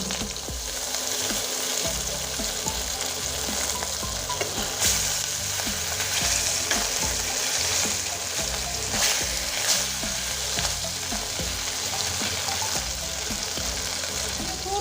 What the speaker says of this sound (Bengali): এখানে আছে কাতল মাছের পিস এবার আমি তেলে ছেড়ে দিচ্ছি